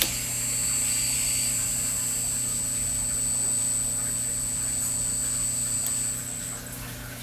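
The hydraulic pump on a Huina RC dump truck conversion whines steadily with a high, thin tone over a low hum. It runs close and constant, then cuts out near the end.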